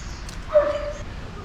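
A small dog in a park in Cieszyn gives a single short, high yip partway through, heard over soft outdoor background noise.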